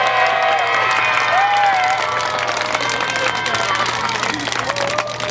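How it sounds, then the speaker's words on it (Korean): A crowd at the 1390th Wednesday Demonstration in Korea cheers and applauds for two grandmothers, survivors of Japanese military sexual slavery, with clapping mixed with shouts and voices across the outdoor gathering, steady and moderately loud. "여러분 큰 함성과 함께 박수 보내주시기 바랍니다."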